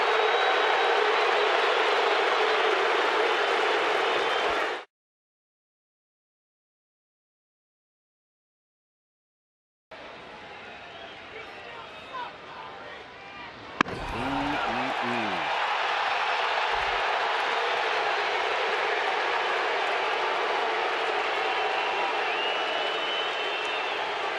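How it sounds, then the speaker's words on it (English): A home crowd at a baseball game roars in a sustained ovation, breaks off into a stretch of silence, then the broad cheering and applause resume at full strength and continue to the end. "He'll get an ovation from the home crowd."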